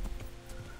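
Horse hooves clip-clop in the medieval game Kingdom Come, a few evenly spaced thuds close by over a soft background rumble.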